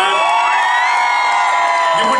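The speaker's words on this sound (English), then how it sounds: "Give it a big cheer." A large crowd at a 2012 Olympic and Paralympic homecoming celebration in Mansfield cheers and whoops loudly, a sustained roar of voices with high shouts rising above it for the full stretch.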